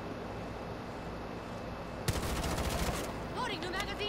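Rapid gunfire in Rainbow Six Siege, a dense burst of shots lasting about a second that follows a quiet stretch of game ambience. A few sharper clicks and metallic clatter come after it.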